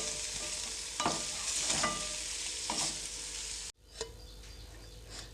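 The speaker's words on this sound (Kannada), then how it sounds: "ಪನ್ನೀರನ್ನು ಎರಡೂ ಕಡೆಯೂ ಸಹ ಬ್ರೌನ್ ಕಲರ್ ಬರೋವರೆಗೂ ಸ್ವಲ್ಪ ಫ್ರೈ ಮಾಡ್ಕೊಳ್ಳಿ" Paneer cubes coated with chilli powder fry in a pan, browning on both sides. A close crackling sizzle with a few stirring scrapes cuts off abruptly partway through. Only a faint, quieter sizzle follows.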